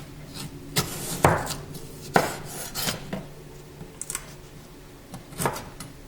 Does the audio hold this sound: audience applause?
no